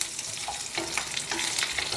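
Green chillies frying in a pan for ridge gourd chutney, giving a steady close sizzle with light stirring scrapes and no talking.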